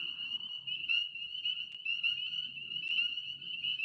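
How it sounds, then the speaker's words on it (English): Spring peeper tree frogs call in a dense, continuous chorus from the woods, a steady high shrill peeping layered with scattered lower croaks, moderately loud and unbroken throughout. "These are called peepers. These, believe it or not, are mostly little tree frogs."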